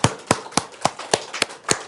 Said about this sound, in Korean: 우리를 지켜주신 하나님께 영광의 박수를 돌립니다